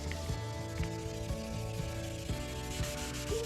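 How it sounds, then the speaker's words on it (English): Wet sanding of car body paint by hand in short back-and-forth strokes, a soft, close, steady rubbing with a faint gritty hiss and no talk. "So I go across it, sand it in short strokes"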